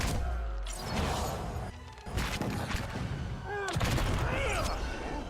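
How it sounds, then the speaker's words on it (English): Cannon fire in the video game Pillars of Eternity, several sharp booming blasts and crashes amid combat noise, with a voice talking over parts of it. "It's got a fucking cannon."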